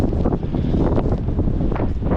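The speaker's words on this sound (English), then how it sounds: "now it's really windy and it's raining" Strong wind buffets the microphone outdoors in rainy weather, producing a loud, rough, continuous rumble and roar that surges in gusts.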